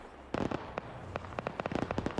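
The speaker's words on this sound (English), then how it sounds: "stop shooting at that cooking off vehicle" Gunfire in the military shooter game Arma 3, aimed at a burning vehicle: a string of sharp, loud rifle cracks in uneven bursts, some close together, others spaced out over a low background rumble.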